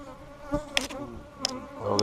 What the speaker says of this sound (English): these bees are trying to hit this camera